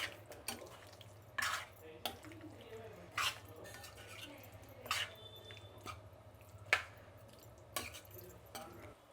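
Restaurant-style chicken gravy stirred in a pot, with a spoon scraping and clinking against metal at irregular intervals over a low steady hum, quiet and close, with no voices.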